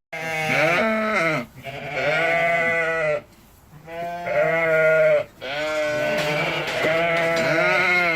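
Sheep and lambs bleat in a lambing shed, several loud, close, wavering calls following one another with short pauses between them.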